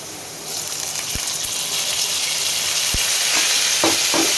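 Potatoes frying with tempering spices as turmeric, salt and a little water go in: a loud, close hiss and gush over the pan, with a few sharp utensil knocks.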